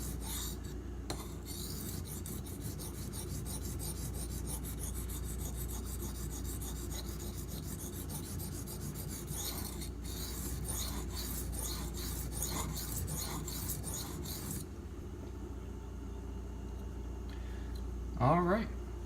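A knife blade is drawn repeatedly across an aluminum oxide whetstone, a quiet rhythmic rasping and scraping in steady strokes, ending with a brief higher squeak.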